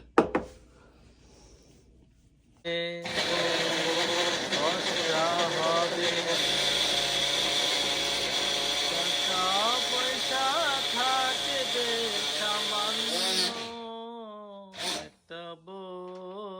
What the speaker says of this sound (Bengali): ব্লেন্ডার মেশিনে।